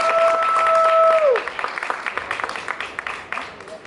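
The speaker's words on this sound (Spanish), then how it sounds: "Un fuerte aplauso," At a manga convention in Bilbao, an audience applauds a dubbing voice actor, starting under a brief tone and a voice, then thinning into scattered, uneven claps.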